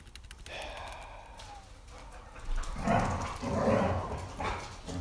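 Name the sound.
dogs fighting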